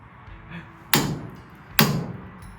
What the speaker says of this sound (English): whack it with a brass drift on the edge of the nut and see if it moves